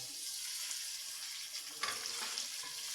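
Half a kilo of bone-in chicken frying with onions in a pan, a steady quiet sizzle with a brief stirring scrape near the middle, close and without talk.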